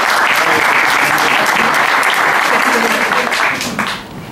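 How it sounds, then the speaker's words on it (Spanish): Theatre audience at a mentalism gala breaks into loud, dense applause that holds steady for several seconds, then thins out toward the end, with voices mixed into the clapping. "Un aplauso"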